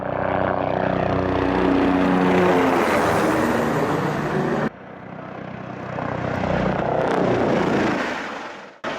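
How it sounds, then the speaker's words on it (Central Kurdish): An Iraqi army helicopter circles overhead during a military operation against ISIS positions, a loud rumbling drone of engine and rotor that swells and fades as it passes, with a brief cut midway. "هێلیکۆپتەری سوپای عێراقیش بەسەر ناوچەکەدا دەسوڕایەوە"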